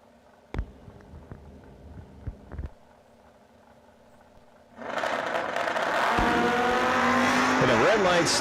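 Drag race cars at an ACE Triple 20K event launch in a sudden loud roar after a few sharp thumps, the engine noise building and holding steady with a rising whine near the end.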